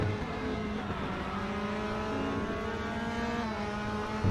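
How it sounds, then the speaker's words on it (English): Race car in a racing video game at TT Assen, understeering through a corner: a steady, sustained engine drone with a constant pitch and faint harmonic whine, close and loud, with no talk over it. "Can really hear the car understeering at the moment."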